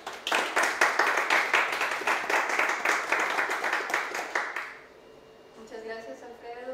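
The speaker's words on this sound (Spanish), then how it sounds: "Por favor, vamos a recibir a Mercedes con un aplauso" An audience at a Mexican translators' organization presentation claps warmly for an arriving speaker, a brisk, even burst of applause lasting several seconds before fading out, followed by a voice beginning to talk.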